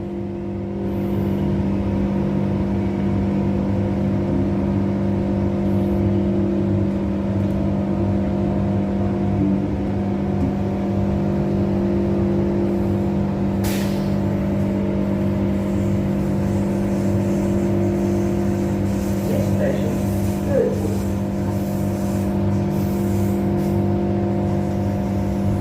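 Transperth ARM A-Train electric railcar, set 319, pulling away from Victoria Park on a Burwood shuttle, heard from inside as a steady loud motor hum and running rumble with tonal whine throughout, no talking.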